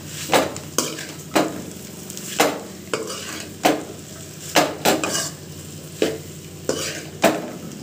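Maggi noodles being stirred in a pan, with a utensil scraping and knocking against the metal in a steady rhythm of about a dozen distinct strokes, close and fairly loud over a faint sizzle.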